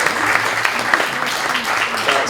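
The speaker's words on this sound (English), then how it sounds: "So everybody just please give a round of applause." Audience applause at an LGBTQ+ literature festival crime and adventure panel, a steady dense clapping from a crowd running throughout, with a murmur of voices mixed in.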